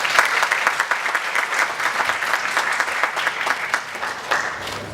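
Steady audience applause welcoming a speaker at a seminar, many hands clapping at a moderate, even level throughout, without talk.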